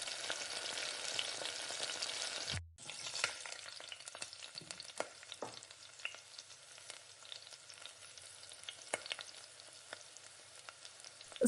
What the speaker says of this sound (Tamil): இந்த மாதிரி எல்லா மீனையும் வறுத்து எடுத்துக்கலாம்.